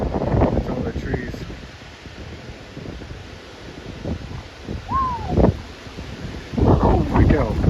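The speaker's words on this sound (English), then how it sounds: "See all the wind blowing?" Strong wind gusting through trees under dark storm clouds, a rushing roar that swells and fades with rustling, mixed with microphone wind buffeting and a distant bird call, while a person talks over it.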